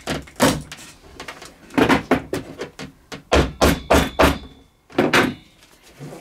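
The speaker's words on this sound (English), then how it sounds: "Keep your finger away from the staple gun." Staple gun firing staples through upholstery fabric under a dining chair seat, a close series of sharp loud snaps, some in quick pairs and bursts, with brief pauses between shots and no talking.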